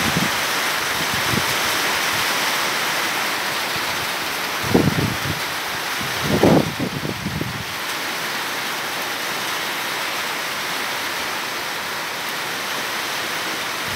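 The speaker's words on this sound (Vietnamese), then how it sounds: "Này mưa lớn luôn rồi" Heavy rain pours steadily on a construction site during a storm, a dense continuous hiss with a couple of brief low thumps midway and no talking.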